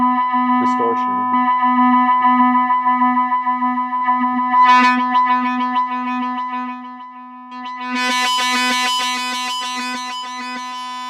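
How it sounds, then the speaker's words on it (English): A sustained Elta Music Solar 42 synthesizer tone with its own built-in gritty distortion, holding steady notes that swell into a brighter, buzzing, heavily overdriven texture toward the end. "the synth has also its own distortion."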